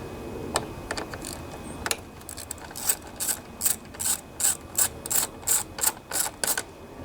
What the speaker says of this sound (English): We also have this bolt that we have to remove.